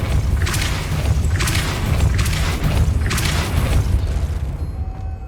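Hogwarts Legacy's Depulso spell blasts out in a series of repeated booming, rumbling bursts over a heavy, continuous low background, loud and close, with no voice heard.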